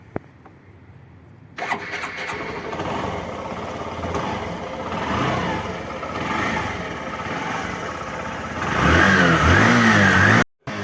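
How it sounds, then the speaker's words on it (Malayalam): Hero Passion Pro motorcycle engine starting after a short quiet moment, then running with a steady mid-pitched engine note, a few throttle blips rising and falling, and a louder rev near the end before it stops abruptly. "ഇനി നമുക്ക് വണ്ടിയുടെ എൻജിൻ സൗണ്ട് കൂടെ ഒന്ന് കേട്ടിട്ട് വരാം കേട്ടോ"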